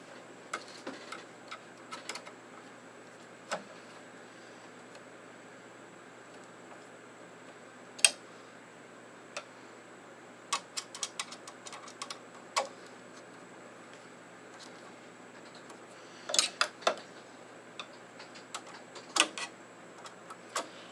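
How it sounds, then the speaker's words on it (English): Screws are tightened by hand on a Brother PRS 100 hat hoop driver, making faint, sparse ticks and small clicks scattered over a quiet, hissy background, with no talking. "While it's inserted, I'm going to tighten those 4 screws."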